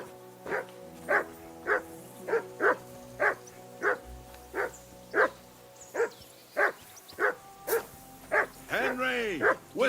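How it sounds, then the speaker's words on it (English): Dog barking in the medieval Bohemia game Kingdom Come: Deliverance II, a steady run of about fifteen evenly spaced, fairly close barks, with a brief whine near the end and a background hum. "Whistle at that mutt of yours to stop barking."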